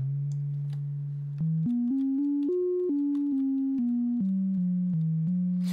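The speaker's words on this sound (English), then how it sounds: "and play it as a beautiful sine wave." A WaveDuo synthesizer plays a pure, steady sine-wave tone with key tracking and feedback raised, stepping through a short sequence of held notes that rise and then fall, clear and alone.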